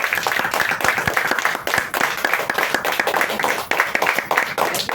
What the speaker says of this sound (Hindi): एक बार उनके लिए जबरदस्त ताली हो